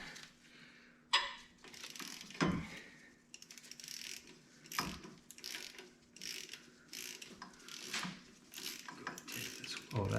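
A ratchet clicks in quick runs and bursts while bolts on an engine bracket of a 1968 Mopar 383 are loosened, close up, with occasional metallic clanks between runs.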